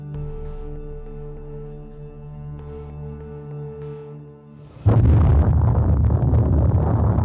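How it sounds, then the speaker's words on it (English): First plutonium atomic bomb test near Alamogordo, New Mexico: a sudden, very loud broadband roar bursts in after several seconds of quieter tonal music and keeps rumbling heavily to the end. "A blinding flash of light and a deafening explosion signaled the beginning of the nuclear age."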